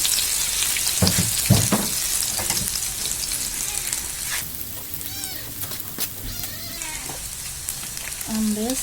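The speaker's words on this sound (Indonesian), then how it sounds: "Kita goreng." Garlic and chili frying in hot oil for a sauce make a close, continuous hiss and spatter, with a few sharper pops and scraping stirs, and faint voices in the background.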